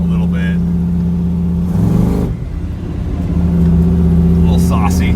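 A truck with a cammed 5.3 V8 engine idles with a loping rumble, then revs briefly in a rough burst and settles back, with talk over the idle before and after.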